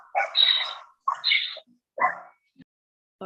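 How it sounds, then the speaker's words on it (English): A dog barks and yips a few times in short bursts, heard alone through a microphone during a committee session, with brief pauses between the sounds. "all dogs need to be put in the hallway or mics turned off"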